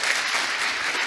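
Dense, steady applause from a congress audience for the speakers, filling the whole short moment with even clapping and no voices.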